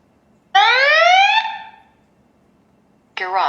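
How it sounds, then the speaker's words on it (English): A YoLink smoke and CO detector in a garage sounds a loud electronic alarm tone that sweeps upward in pitch for about a second, then fades; after a pause a second burst begins. "Garage, smoke and CO alarm detects smoke."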